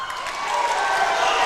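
A basketball crowd at a Lovington versus Roswell game roars in reaction to a play, a loud sustained wash of cheering and clapping that swells slightly over a second and a half.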